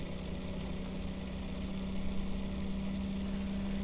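A Bedini motor kit with ferrite magnets spins at speed, producing a faint, steady electric hum with a constant tonal whine and no other sounds.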